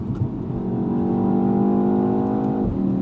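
A 2024 BMW X1 M35i engine revs up strongly out of a curve, pitch climbing steadily before easing off at the end, loud and close with no talking.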